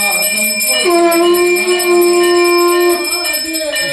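A temple bell rings during a morning aarti at the Maa Shitla shrine in Thariyanv, Fatehpur. The ringing is loud and continuous, a bright sustained tone with shimmering overtones that carries steadily throughout.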